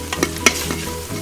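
Softened onions fry in a pan for a Maharashtrian stuffed eggplant dish, with turmeric going in; a steady sizzle runs under a few quick, clattering stirs of the spoon, close and moderately loud.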